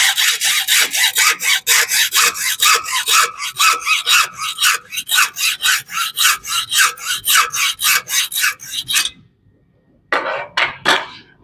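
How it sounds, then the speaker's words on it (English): Hacksaw cutting braided stainless Teflon hose clamped in a vise: loud, close, rhythmic rasping strokes, about two per second, run steadily for nine seconds, pause briefly, then a few more quick strokes. "and I'm going to saw."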